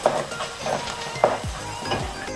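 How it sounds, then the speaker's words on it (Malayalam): Ginger frying in a pan for fish pickle, a quiet sizzle broken by several scraping strokes and soft knocks as it is stirred, no talk. "ഇഞ്ചി ഇട്ട് നല്ലപോലെ ഒന്ന് ഇളക്കി കൊടുക്കാം"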